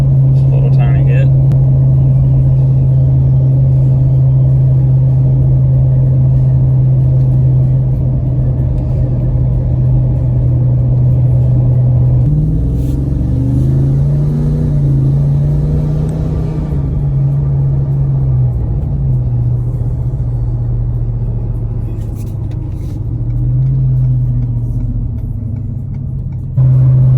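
A 2020 Ford F250/F350 with the 7.3 gas engine and 4.30 gears cruising on a highway, a loud constant low engine and road rumble with a brief rise in revs midway, while someone talks over it.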